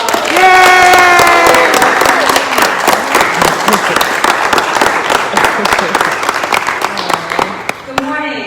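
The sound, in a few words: audience applause at signing ceremony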